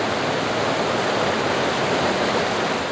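The Ashuelot River rushing at the Homestead Woolen Mill Dam, a loud, steady broadband roar of flowing water that holds constant throughout with no talk.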